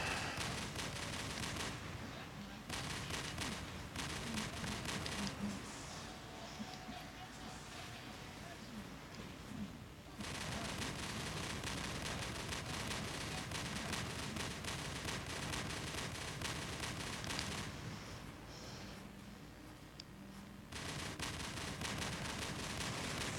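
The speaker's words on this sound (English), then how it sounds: "the new explosions look cool, you can't see around them" Dense, continuous explosions and gunfire from a test-server build of an online combat video game with new visual effects, loud and sustained with barely a break.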